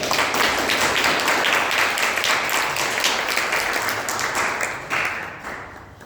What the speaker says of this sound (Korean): 우리 박수로 맞이하십니까?